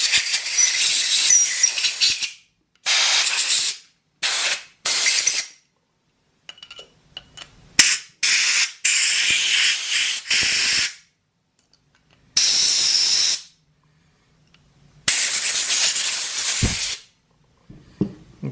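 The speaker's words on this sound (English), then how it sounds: "All this is going to have a lot of air blowed through it, just in case there's any" Compressed air hissing through Farmall Super A carburetor parts in a string of loud, sharp blasts of varying length, separated by short silent gaps and brief quiet handling sounds.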